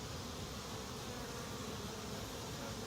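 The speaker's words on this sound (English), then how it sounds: "We've got bees bearding on it, festooning on it" Honeybees buzz on a hive frame of a resettled absconding colony, bearding and festooning together, a close, continuous droning hum without pause.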